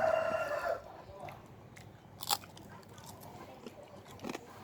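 Someone bites into crispy fried pork up close, with a crunchy bite and soft chewing; a rooster crows briefly in the background at the start.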